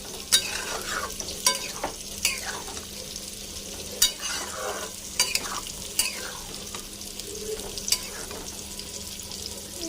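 Ash gourd curry frying in a pan and stirred with a utensil, soft sizzling under repeated sharp scrapes and clinks at an irregular pace, quiet and close.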